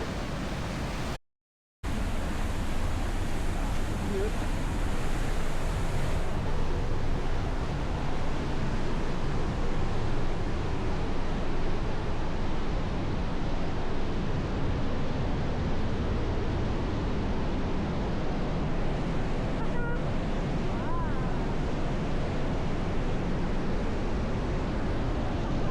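Waterfall in Banff National Park, a loud steady broadband roar of falling water that continues without pause, heard up close, with no voices.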